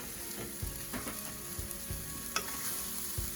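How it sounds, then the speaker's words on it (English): Fried rice with chicken bouillon stirred in a pan, a soft continuous sizzle with several quiet scraping stir strokes, close and low in level, no talking. "once I get that all done, I give it a stir."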